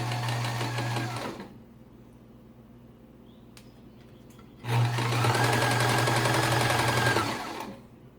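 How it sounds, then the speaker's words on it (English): Two bursts of a sewing machine stitching a fabric surgical mask edge, a steady close whir with a low hum, separated by a quiet pause of about three seconds. "Turn your fabric and continue stitching down the other edge, making certain to keep the elastic out of the way."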